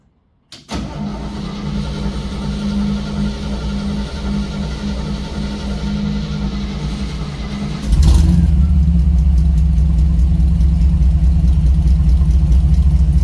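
A 1964 Chevrolet Suburban engine starts up and settles into a smooth, quiet idle close by, then grows noticeably louder and fuller partway through as it keeps running steadily.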